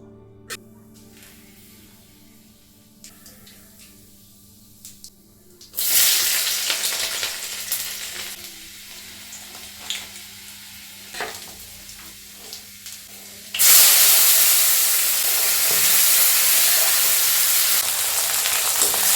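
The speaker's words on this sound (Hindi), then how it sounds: "तो गाइस इसमें तेल में जीरा डाल दिया था और लहसुन का तड़का लगा लिया था" Hot oil tempering cooked dal with cumin seeds, garlic, bay leaf, onion, tomato and green chili, crackling softly at first, then bursting into loud, steady sizzling twice as ingredients hit the pan.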